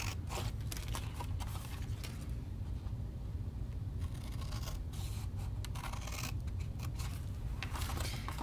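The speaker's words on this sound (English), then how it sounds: "So now we're going to cut down these sides here." Scissors cut down the sides of a paper box, making a quiet, continuous run of snipping and rustling crunches that is close and soft with no talking.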